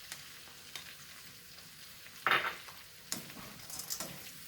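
Zucchini, tomato and corn sizzle steadily in a hot pan, with a few sharp clanks and scraping bursts as the vegetables are tossed and stirred with a utensil, close and clear with no talking.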